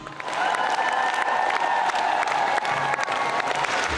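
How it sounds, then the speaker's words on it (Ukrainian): A concert audience gives a folk dance ensemble thunderous applause after a hopak, sustained dense clapping mixed with crowd noise and a few cheers, loud and unbroken. "Бурхливі оплески вдячних глядачів ще довго не відпускатимуть артистів зі сцени."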